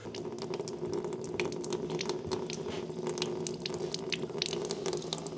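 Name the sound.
water running from a tap after installing a water filter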